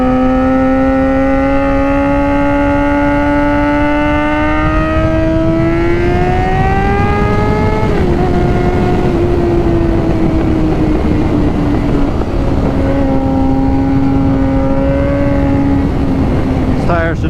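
A Suzuki GSX-R 600 motorcycle rides through twisty roads, its engine a loud, continuous close drone that climbs in pitch while accelerating, drops sharply on a shift, then holds and eases off, with heavy wind rush.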